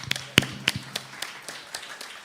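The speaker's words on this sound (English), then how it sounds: "So, yay, clap." A small group at a workshop presentation claps sparsely: a handful of separate, fairly faint claps spread unevenly across a couple of seconds.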